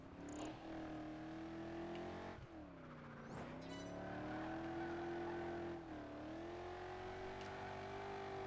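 An American muscle car racing in Project Gotham Racing 4, its engine droning loudly as it climbs through the revs, with clear gear shifts dropping the pitch before it rises again.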